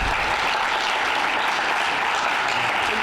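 Dense, even applause fills a board of education meeting room for a student, a continuous wash of many hands clapping at steady volume with no talk over it.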